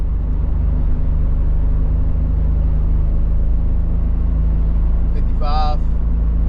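A 1993 Nissan 300ZX engine drones steadily in fourth gear at around 3,000 RPM while cruising at about 50 mph, with a constant low hum and road noise throughout and a short bright tonal chirp near the end.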